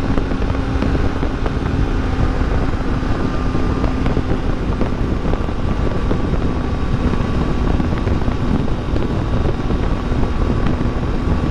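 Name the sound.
wind noise while riding a Triumph Tiger 800 XCA motorcycle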